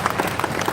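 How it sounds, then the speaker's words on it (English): Short burst of audience applause for two men being called up on stage, a dense patter of hands with voices mixed in. "let's give them a big round of applause"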